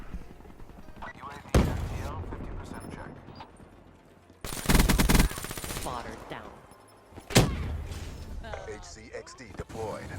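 An ICR assault rifle fires in Black Ops 3 in three loud bursts, one short, one a sustained rattle of rapid shots and a final sharp burst, while someone talks between them.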